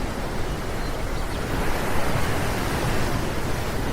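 Ocean waves surge and wash continuously while a fishing boat sets out to sea, a loud, broad roar of surf and wind close to the microphone, with a low engine rumble blended into the noise.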